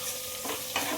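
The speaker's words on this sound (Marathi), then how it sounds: "लसण पेस्ट केलेली आहे आणि छान परतून घेऊया" Garlic paste sautéing in a pan for a Maharashtrian baingan masala, with a steady close sizzle under occasional scraping stirs of a spoon.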